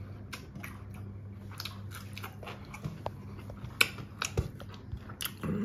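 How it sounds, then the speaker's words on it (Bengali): Someone eating poppy-seed (posto) mutton with posto baked rice: faint, close bites and soft chewing with a few small crunchy clicks spread irregularly over a low room hum. "এই মুহূর্তে আমি কি খাচ্ছি, পোস্ত বেকড রাইস দিয়ে পোস্ত মাটন।"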